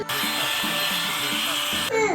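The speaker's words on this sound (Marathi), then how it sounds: "hot air brush" A hot air brush with warm, low, medium and high modes runs with a steady, loud blowing whir for about two seconds, then its tone shifts briefly at the end.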